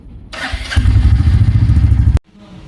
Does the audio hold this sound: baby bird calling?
no